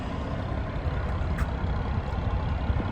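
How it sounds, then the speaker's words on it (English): A 2023 BMW M340i with an aftermarket exhaust idles in a low, steady burble, an even and moderately quiet rumble without revving. "The next modification that I love so much is this exhaust."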